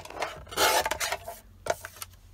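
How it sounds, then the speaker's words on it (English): Paper being trimmed for a tall, skinny journal, heard as a few short rasping cuts and scrapes, close and fairly loud, with brief pauses between strokes and no talking. "I'm just going to be doing a lot of trimming"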